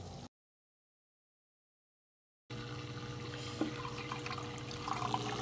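An aquaponics pump filling a grow bed before the micro siphon starts, heard as a steady trickling, gurgling stream of water after a brief stretch of silence, with an occasional drip.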